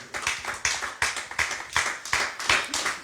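A church congregation claps together in praise of the Lord, a steady rhythmic run of hand claps roughly every half second, close and lively, with no talk over it.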